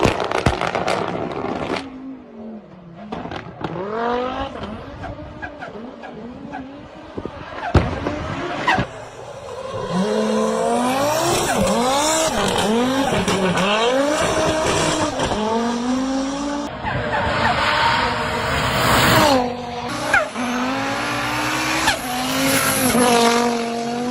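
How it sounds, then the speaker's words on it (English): A 1000-horsepower race car weighing about one ton, with a turbocharged Volvo inline-five engine, revs hard and loud throughout, its pitch sweeping up and down through repeated gear changes, with brief tire squeal mixed in. "It is powered by a Volvo inline 5 turbo engine taken from the Focus RS Mark II."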